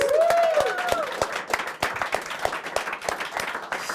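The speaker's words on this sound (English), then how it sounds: "So let's give Declan a big round of applause" A studio audience claps for comic book artist Declan on an Irish chat show, a brief whistle rising at the start before dense, rippling applause continues for a few seconds.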